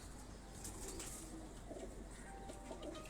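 Tonsi pigeons cooing at a home loft, soft low coos repeating over a steady noisy background, with occasional faint wing movement and no talk.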